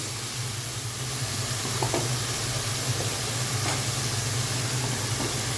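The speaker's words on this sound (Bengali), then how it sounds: "প্রথমে দিয়ে দিচ্ছি আদা রসুন জিরে বাটা 2 চামচ" Ginger, garlic and cumin paste hits hot oil in a frying pan, giving a steady close sizzle and hiss with a few faint stirring scrapes and no voices.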